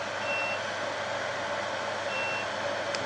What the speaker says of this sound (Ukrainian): Це пікає стабілізатор